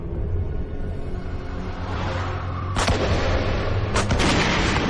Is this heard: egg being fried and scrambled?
no